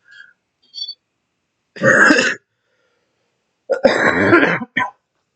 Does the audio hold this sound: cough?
yes